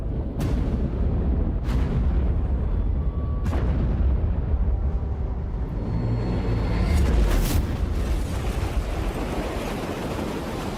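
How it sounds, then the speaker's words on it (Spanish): Allied escort ships' depth charges explode underwater against a U-boat in World War II: heavy muffled booms and deep rumbling surges over a constant roar of churning sea. "los escoltas aliados desatan cientos de bombas bajo el agua"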